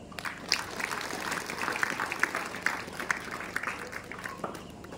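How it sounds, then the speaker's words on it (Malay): An audience at a Hari Santri Nasional tabligh akbar in an Islamic boarding school claps steadily for several seconds, a soft, distant patter of many hands. "Tepuk tangan aja."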